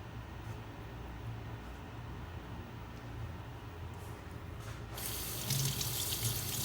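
Water from a kitchen tap runs steadily into a sink while a cutting board is rinsed, a continuous close hiss that swells louder and brighter near the end as the flow strikes the board.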